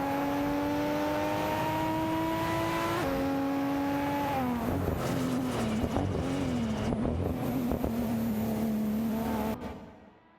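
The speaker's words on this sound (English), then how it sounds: "In the Porsche Carrera GT is locked in a fierce battle with Rizaldi Adha in the Lamborghini C10 Alston for P13." Simulated race cars, including a Porsche Carrera GT and a Lamborghini, roar and accelerate in a midfield battle in a racing video game, steady engine whine rising in pitch then dropping into rough, overlapping revving before cutting off near the end.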